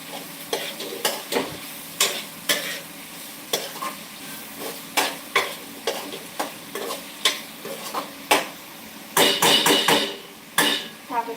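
Food sautéing in a pan with a spoon stirring it repeatedly, rhythmic scraping knocks over a continuous sizzle, close and fairly loud.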